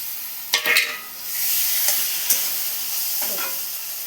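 Eggs go into sautéed, well-cooked spice masala in a pan for an egg curry, with a steady close sizzle of frying and a few sharp clatters and scrapes of stirring.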